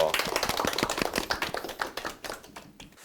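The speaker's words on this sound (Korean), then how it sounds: "박수 한번 주세요" A round of clapping from a group, brisk and fairly close, fading out toward the end.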